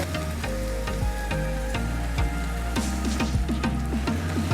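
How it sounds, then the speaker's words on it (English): Zucchini with a pinch of salt and softened onions frying in a pan, a steady close sizzle with repeated clinks and scrapes of a utensil stirring, and a low hum underneath. "I'm going to add my zucchini and a little bit of salt."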